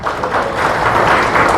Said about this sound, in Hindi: इस पे तो तालियां बनती है दोस्तों